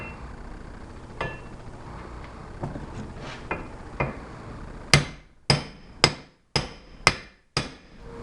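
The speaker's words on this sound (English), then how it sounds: "I'm going to pound it on." A large washer hammered down to seat a bearing on a Honda CB750 motorcycle, with a series of sharp metallic blows, light taps at first, then six loud evenly spaced strikes ringing briefly.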